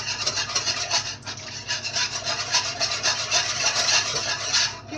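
Wet brownie batter ingredients are whisked in a bowl, giving a quick, continuous scraping and swishing rhythm that stays close and fairly loud for several seconds.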